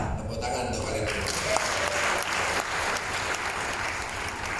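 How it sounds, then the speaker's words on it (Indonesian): Steady audience applause at a patriotic national unity gathering, loud and continuous from start to end with a faint voice or two mixed into the crowd noise. "Tepuk tangan untuk kalian."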